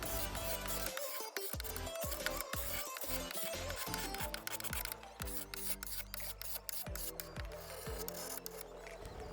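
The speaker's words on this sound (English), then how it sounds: "I did the carbide scraper on the entire top of this piece" Continuous scraping and rasping of a carbide scraper on a wooden dresser top, with repeated strokes in an uneven rhythm, close and fairly loud throughout.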